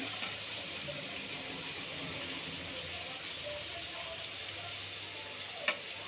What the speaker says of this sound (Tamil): நல்லா பொன்னிறமாக ஆகிற வரலாம் வறுத்து எடுக்கலாம்.